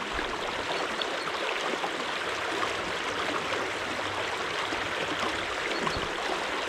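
The River Ayr flowing steadily, a continuous broad rush of stream water over rocks, close and even throughout with no voices.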